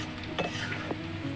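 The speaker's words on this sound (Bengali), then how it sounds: "তার জন্য পেঁয়াজটা ভেজে নিচ্ছি" Onions sizzle while frying in a pan for chicken biryani, with a steady low hiss and a few light stirring scrapes and clinks of a utensil. No one speaks.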